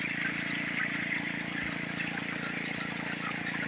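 Water rushes steadily through a gold prospecting sluice, set level so the flow runs at an even height across; a continuous, fairly quiet broadband wash with no break or voices.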